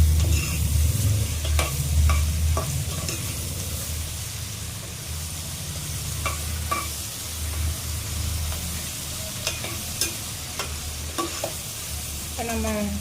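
Onion and tomato frying and being stirred in a pan for onion chutney, a steady close sizzle with scattered ticks and scrapes of stirring throughout, no talk.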